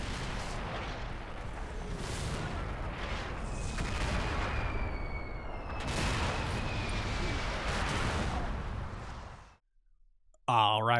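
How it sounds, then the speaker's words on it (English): Artillery barrages in the war game Combat Mission Shock Force 2 rumble as a series of heavy booms and long rolling blasts. They are loud and sustained, break off into near silence, then end with one sharp burst. "I just want to see this artillery."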